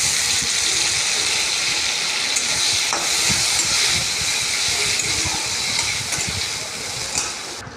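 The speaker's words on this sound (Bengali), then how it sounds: "ওই তেলেই বেগুন দিয়ে দিয়েছি।" Eggplant slices coated in salt, turmeric and gram flour sizzle steadily in hot oil in a pan, a dense, continuous frying hiss with faint crackles and occasional stirring clinks throughout.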